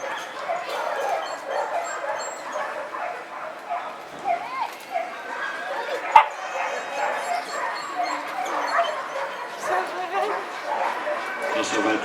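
A dog trained to bite an arm barks and yips repeatedly amid a busy, noisy scene with people talking throughout.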